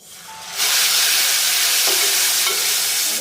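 A big chopped tomato hits browned onions in a hot pan for chicken biryani: quiet at first, then a sudden loud, close sizzle that stays strong and hissing as it is stirred.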